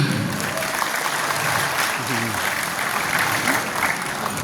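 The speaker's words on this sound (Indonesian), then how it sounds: "tepuk tangan" Audience applause at a PMII anniversary thanksgiving and halal bihalal gathering, a steady crowd clapping with a voice briefly heard beneath it.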